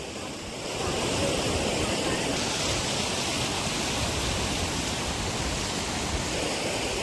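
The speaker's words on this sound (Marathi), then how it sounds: "त्यामधून हा धबधबा प्रवाहित होऊन आहे" Continuous roaring rush of Vanalakshmi Waterfall near Badlapur, broad and steady, with a slight wind-like hiss over the microphone.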